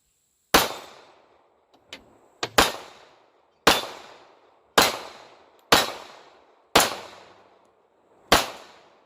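Ruger LCP II .380 ACP pistol fired at a range: seven sharp, loud gunshots at irregular intervals of roughly a second, each ringing out briefly, with a couple of faint clicks between them.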